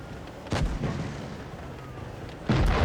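Tank cannon shots from the KV-4 or IS-3 in WOT Blitz, two heavy booms about two seconds apart with low rumbling tails over steady game background noise.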